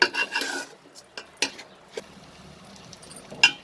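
A spoon stirs and sautés a rice and moong dal mixture coated in masala for khichdi, giving scattered scraping and clinking strokes against the pan with a faint sizzle between them, no voices.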